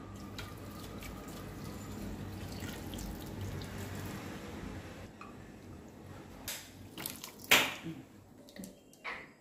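Spiced boiled water poured from a small glass onto chicken for biryani, heard as a soft close splashing trickle with a few sharper splashes and drips near the end.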